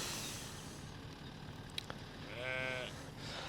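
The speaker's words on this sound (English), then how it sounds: "here's the sheep" Sheep on a farm give a single clear bleat partway through, over a faint outdoor background with a couple of brief clicks, no talk.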